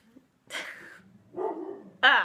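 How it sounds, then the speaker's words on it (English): Several dogs bark in short indoor bursts, three separate sharp barks spaced unevenly, moderately close and fairly loud against a quiet room. "the dogs are going crazy"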